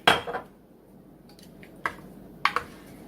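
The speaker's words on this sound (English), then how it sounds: "Stir that in." Spoon scraping and clinking against the crockpot while Worcestershire sauce is stirred into beef stew, a few sharp, fairly soft taps and scrapes with quiet gaps between them.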